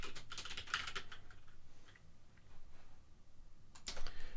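Keys tapped on a computer keyboard while entering credit card details, a light quick patter of clicks in two short bursts with a quiet gap between, close and soft.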